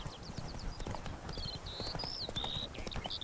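Hooves clip-clop steadily on hard ground as a horse moves at pace in The Witcher 3: Blood and Wine, with faint whistling tones above the rhythmic footfalls.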